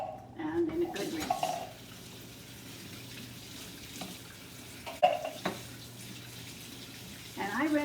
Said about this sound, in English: And I rinse them until it pretty well comes clear.